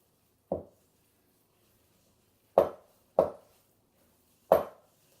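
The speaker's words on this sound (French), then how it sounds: "on mélange grossièrement avec le dos de la cuillère en bois" A wooden spoon works rough baguette dough of white flour in a bowl, making four separate dull knocks against the bowl, one alone and then three more spaced apart, each close and short in an otherwise quiet room.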